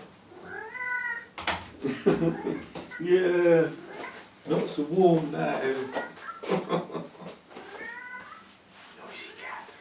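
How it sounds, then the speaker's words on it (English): Domestic cat meowing repeatedly, a few drawn-out rising and falling meows close by, with a person talking over and between them. "Noisy cat."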